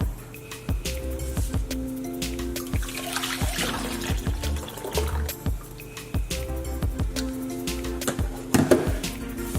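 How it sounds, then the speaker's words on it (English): Continuous watery sloshing and scraping as a thin vegan mozzarella mixture is stirred in a small saucepan over medium-high heat, steady and close with repeated utensil clinks. "Continually stir as it cooks, so we'll go ahead and do that."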